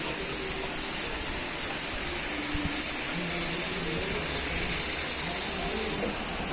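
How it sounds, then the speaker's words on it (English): Rain falls steadily in Mizoram as a soft, even hiss that stays constant and fairly quiet, with faint background sounds and no talking. "And it's raining, guys. First rain ever."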